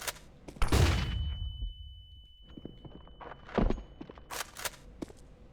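In a video game, a flashbang grenade detonates with a sharp loud bang early on, followed by a sustained high ringing tone, then scattered thuds, footstep-like clatter and further bursts.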